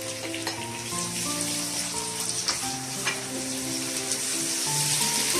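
Chopped tomatoes frying with garlic-ginger paste in a hot pan for chicken biryani, a loud, dense, steady sizzle with a few faint stirring scrapes, no talking.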